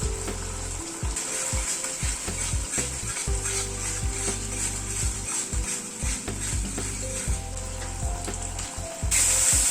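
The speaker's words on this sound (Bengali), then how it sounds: "স্যাফরনটা দিয়ে আর 2-1 মিনিট একটু নাড়াচাড়া করে নিলাম।" Masala with a pinch of saffron sautéing in oil in a pan, with a steady close sizzle and repeated scraping strokes of a spoon stirring it, continuous throughout with no voices.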